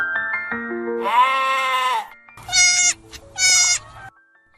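Goat bleating during birthing on a farm, several loud, close, wavering calls in quick succession with short pauses between them, no talk over them.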